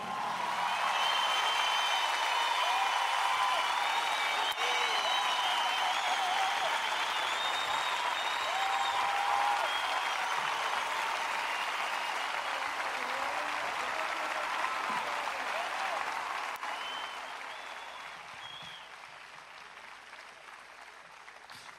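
Festival crowd applauds a Portuguese guitarist at an Oeiras Cool Jazz Festival concert, a long, dense roll of clapping with faint cheers that holds strong, then gradually thins and fades near the end.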